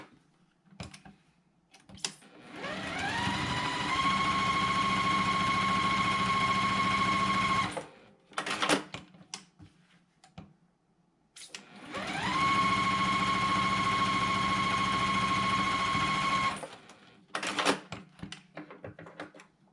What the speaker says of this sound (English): I'm going to stitch a 1/4 inch of a line away from the line on both sides.